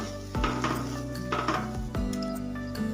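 Chilli powder and homemade masala being stirred in a pan for dum aloo, with a few hard scrapes and knocks of a spoon against the metal over a low, steady sizzle.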